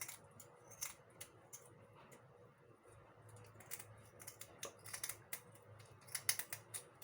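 Kitchen scissors snip and crunch through a raw lapu-lapu (grouper) fish being cleaned, a series of sharp, close clicks and cuts in an irregular rhythm, with some handling noise between snips and no talking.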